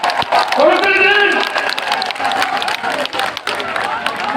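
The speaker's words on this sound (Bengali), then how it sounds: "করতালি দেন।" Crowd at a BNP public rally in Chuadanga claps and cheers together, a dense, loud and steady wash of applause with voices mixed in throughout.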